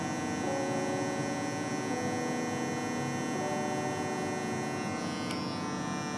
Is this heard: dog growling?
no